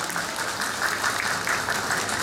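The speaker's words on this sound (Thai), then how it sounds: "ขอเสียงปรบมือให้ด้วยนะครับ" A short stretch of audience applause at a Thai event, many hands clapping in a steady, dense patter without pause.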